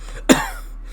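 A single short, throaty cough from a man, close and distinct against a steady low hum, with no speech around it.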